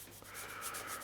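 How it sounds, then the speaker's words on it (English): Sandpaper is rubbed against a fabric sleeve to unclog it, giving a soft, quiet, continuous scratchy rubbing with faint repeated strokes, alone and close. "Just unclog the paper a bit. Rubbing it on my sleeve."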